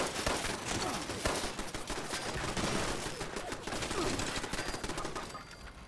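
Automated defensive turrets in Fallout 76 fire in dense, continuous rapid bursts that keep up across the whole stretch, a loud, steady clatter of gunfire with only a faint voice now and then.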